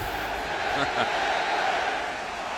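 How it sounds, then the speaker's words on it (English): A stadium crowd cheers at a 2008 NFL game, New England Patriots at New York Jets, a dense continuous roar of many voices filling the space, with a brief swell partway through. "the crowd is got some energy and some noise"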